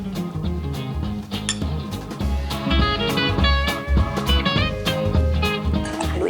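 Mushroom sisig with onion slices and a prepared sauce being tossed in a bowl, giving a steady run of utensil clinks and scrapes against the dish over a dense, continuous kitchen clatter.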